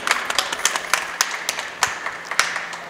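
An audience at a Holi event claps to open the program, a scattered, moderately close applause of distinct individual hand claps in an uneven rhythm.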